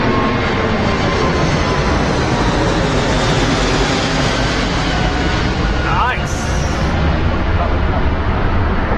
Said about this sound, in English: The double-decker aircraft, guys. That is the world's biggest passenger commercial airliner.